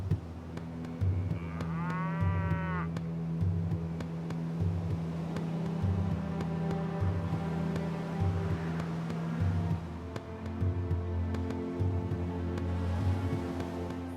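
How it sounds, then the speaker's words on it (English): Cattle low repeatedly in a pasture in Tahiti, deep sustained moos rising and falling over a steady low engine-like drone, fairly distant and moderate in level, with no voices. "the cows, who flee the burning sun,"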